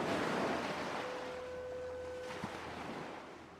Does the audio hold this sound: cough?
no